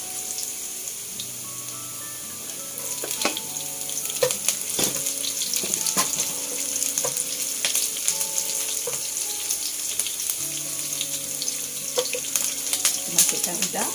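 Garlic sizzling and frying in hot oil in a pan for spaghetti aglio olio, a steady close crackle with scattered sharper pops and faint clinks of stirring throughout, no talk.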